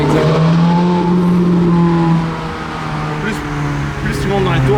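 A 490-horsepower sports car in a light body revs hard through its range, a loud continuous engine roar with rising and falling pitch, close by on a street in Monaco, with people talking over it.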